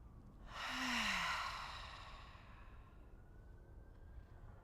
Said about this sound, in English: Let's try another big inhale through the nose,